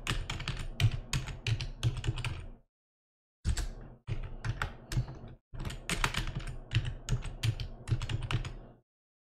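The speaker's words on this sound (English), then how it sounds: "I'm going to type in my username and password." A username and password are typed on a computer keyboard, close and crisp. Quick clusters of keystrokes come in several runs with short silent gaps between them.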